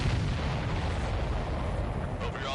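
Explosions and artillery fire in a video game air battle come as a dense, continuous barrage of low booms and rumbling blasts, loud and close, with no clear break, and faint voices may sit underneath.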